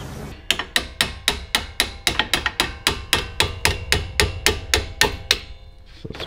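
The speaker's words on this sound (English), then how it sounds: "There's a little tap, tap, tappy here. Just tap it in." A hammer taps a Camaro SS front brake part into place with about twenty sharp metallic strikes in a quick, fairly even rhythm, close and loud.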